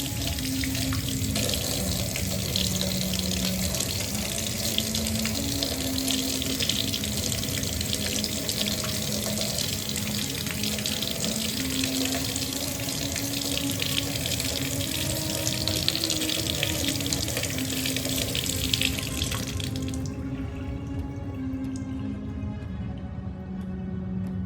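Water runs steadily from a kitchen tap into a sink as something is washed, a loud, continuous splashing stream with no talk that stops abruptly near the end.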